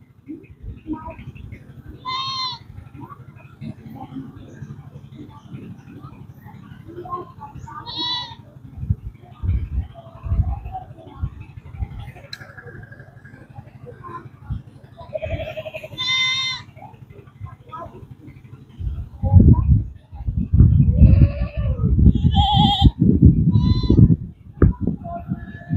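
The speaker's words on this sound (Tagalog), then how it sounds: "Yan yung ating mga kambing guys" A herd of goats bleats on a farm, with several wavering calls scattered across the clip, some near and some farther off. Ongoing rustling and handling noise sits underneath, and heavier rumbling builds toward the end.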